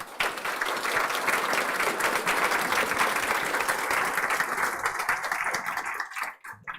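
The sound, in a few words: conference audience applause for panelists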